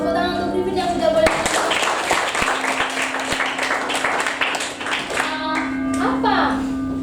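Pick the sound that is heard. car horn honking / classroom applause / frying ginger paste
classroom applause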